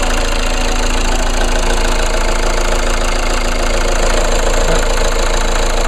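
2014 Chevy Cruze 4-cylinder turbo diesel engine idling, a loud, steady, dense drone with no letup.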